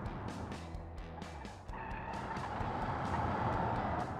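A supercharged V12 engine in a BMW Z3 on the Nordschleife in a racing video game, straining under wheelspin with tire squeal over a steady engine drone that rises in pitch partway through.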